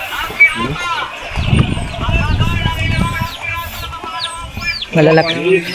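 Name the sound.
chickens and chicks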